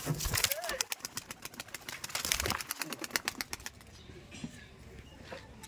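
Giribaz pigeons beat their wings in rapid repeated flaps as they are released, with someone talking over the fluttering, which fades toward the end.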